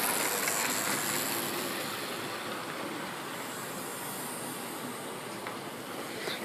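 Model train locomotives run steadily, one steam model and one diesel-type Norfolk Southern SD70, giving a continuous broad rushing hiss with faint clicking of wheels on track, moderately loud and unbroken, with no talking.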